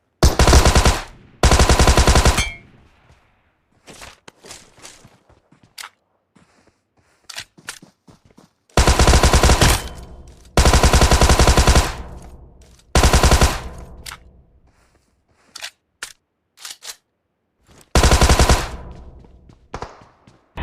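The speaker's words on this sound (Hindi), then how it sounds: "बंदों ने फायर दे दिया है, उन्होंने कह दिया है हम रेडी हैं" Gunfire in the battle royale video game BGMI: loud, close automatic bursts, each a few seconds long, broken by gaps holding scattered single shots and fainter distant fire.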